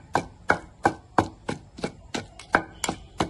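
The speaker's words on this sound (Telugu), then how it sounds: "ఉల్లిపాయలు కూడా కొంచెం అట్లా అట్లా దంచుకుంటే కచ్చపచ్చగా దాంట్లో తగులుతూ ఉంటే తింటే చాలా బాగుంటుంది" Onions pounded in a stone mortar for a roadside-style chutney with dried red chillies and tomato: ten sharp, even thuds about a third of a second apart, close and clear with no voices.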